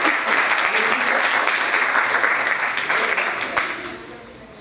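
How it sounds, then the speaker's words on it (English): An audience at an architecture talk by 5468796 Architects gives warm applause welcoming the speakers. Dense, even clapping fills the room and fades slightly toward the end. "So please give a warm applause to our friend Sasa."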